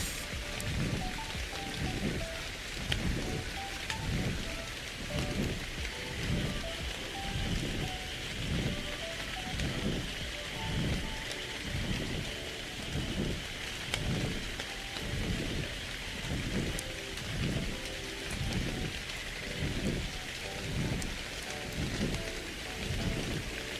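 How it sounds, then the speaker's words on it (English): Steady rain falls at night in the survival video game Ark Survival Evolved, a dense, constant hiss of drops with a pulsing low rumble beneath, continuing evenly throughout without any voices. "it's raining and it's nighttime"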